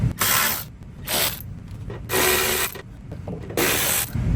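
Ratchet loosening bolts on the front bumper of a 2009 Toyota Corolla, in several close, loud bursts of rapid clicking separated by short pauses, with no talking.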